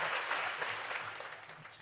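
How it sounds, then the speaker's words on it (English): Applause from a small audience, a dense, steady patter of clapping at moderate loudness that carries on without a break and fades slightly toward the end. "so we'll give Willie his applause"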